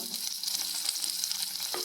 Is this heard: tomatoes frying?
yes